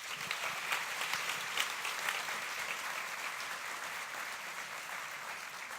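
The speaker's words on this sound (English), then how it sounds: "Let's give these young kids another round of applause" Sustained applause from an audience at a kids' event in Denver, a steady dense wash of many hands clapping that holds at even loudness throughout with no talking over it.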